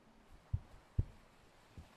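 Soft, low heartbeat thumps come in a few separate beats over a quiet, hushed background in a calm sailboat meditation setting, faint and close with no talking.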